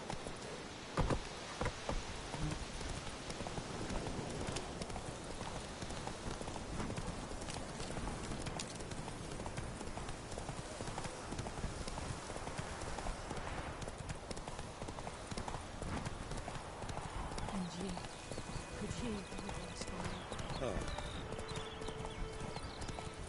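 Horse hooves clip-clop steadily throughout a long stretch, loud and close, with an occasional whinny and a busy outdoor background.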